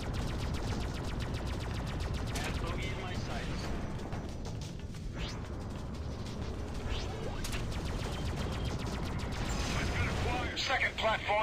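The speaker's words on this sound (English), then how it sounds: "Fire some more missiles that way." Space combat in the Freelancer game, with a steady run of rapid clicking gunfire and missile launches in a dense, continuous barrage, with a few sharper bursts near the end.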